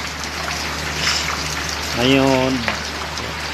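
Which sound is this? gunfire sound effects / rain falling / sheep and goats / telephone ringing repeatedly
rain falling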